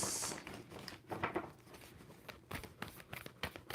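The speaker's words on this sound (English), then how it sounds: "2 more shuffles for Aquarius" Soft shuffling of tarot cards during a reading, with riffles and crinkly taps coming in short uneven bursts, quiet and close, with no voices.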